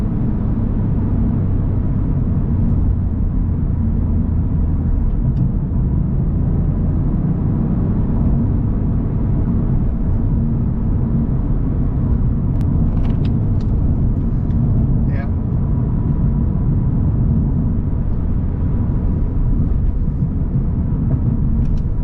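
A Toyota Yaris GR hatchback drives fast along twisty roads, a steady loud engine and road rumble recorded from inside the cabin, continuous throughout.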